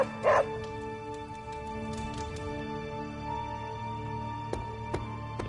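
A dog in the video game Marvel's Midnight Suns gives one short, loud yip or bark near the start. A faint whimper follows over steady game ambience.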